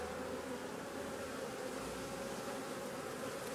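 Honey bees swarming around an opened hive during a beekeeper's frame inspection, a continuous soft buzzing hum of many insects at once, steady and close throughout.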